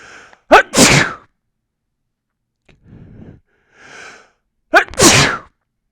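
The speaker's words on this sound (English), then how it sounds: "I think I'm gonna sneeze." Two sharp, explosive human sneezes, loud and close, come near the start and end, with soft breathing and sniffing in the quiet gap between them.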